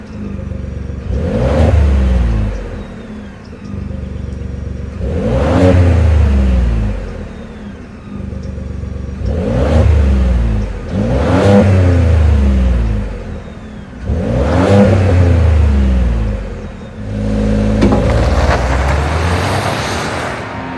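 A 2023 Ford F-150 XLT FX4 pickup's 3.5-liter twin-turbo EcoBoost V6 revs repeatedly, about five rising-and-falling pulls in a regular rhythm, loud and close over a low idle rumble.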